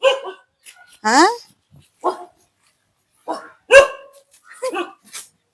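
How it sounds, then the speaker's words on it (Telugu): Dogs give short, sharp barks and a rising yelp, spaced in separate bursts with quiet gaps between them, loud and fairly close. "అబ్బా కుక్కలు మాత్రం భలే"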